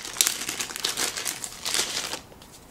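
Playing cards from a Lord of the Rings board game being handled, a close, crisp crinkling and rustling in short overlapping bursts for about two seconds before falling quiet.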